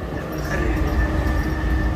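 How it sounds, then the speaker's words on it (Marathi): A train departs Belapur station toward Seawoods with a steady, loud rumble that stays even throughout. "हे बघा इथून ट्रेन इथून चाललाय सीवूड्सला."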